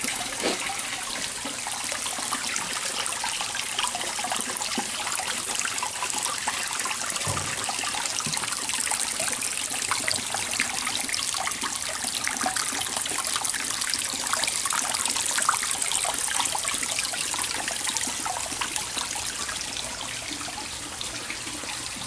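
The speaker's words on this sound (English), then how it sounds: "Now this over here is the end of the river that I made." Water trickles steadily through a man-made garden river, a continuous close, even babbling flow with no voices throughout.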